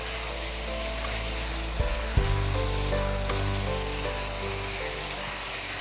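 Chicken masala sizzling and frying in a pan, a steady close crackling hiss with a couple of sharper pops and faint stirring scrapes, no voices.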